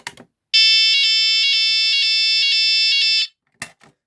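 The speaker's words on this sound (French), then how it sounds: "donc seule la sirène sonne" A Baas Nugelec NUG31218 type 4 alarm unit's siren, tested with its loudspeaker disconnected, blares a loud piercing electronic tone in a regular pulsing pattern for about three seconds, then cuts off, with brief clicks of handling before and after.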